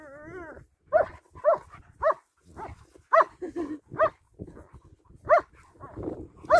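German shepherds and a husky play together, giving out a string of short yips, whines and growly vocalizations at irregular intervals, close and moderately loud, with the dogs' noises dominating.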